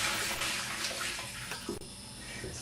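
Water running and splashing into a container while a pork shoulder brine is mixed, a steady broadband pour with small bubbling splashes, close and continuous throughout, no voices.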